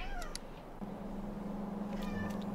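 A cat meows a few times, close and fairly faint, with short rising cries spread across the moment.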